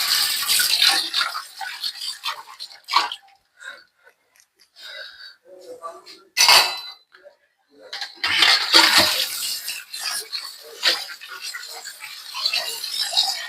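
Dishes being washed in a home kitchen, with clinks of pots and cutlery and splashing water in short irregular bursts, heard close over gaps of quiet.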